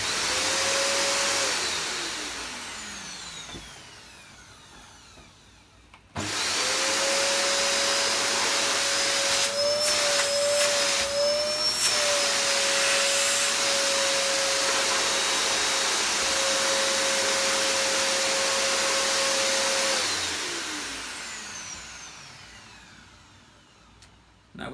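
A Hoover Purepower U3450 upright vacuum cleaner switched on: the motor spins up and runs as a loud, steady whine with broad hiss, then winds down near the end.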